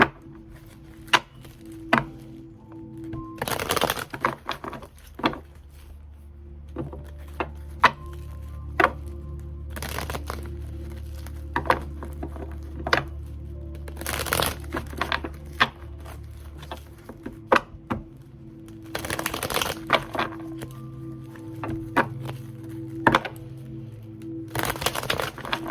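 Tarot cards shuffled and handled in a quiet room, giving repeated soft papery slaps and riffles in irregular bursts, with a low steady hum underneath and no talking.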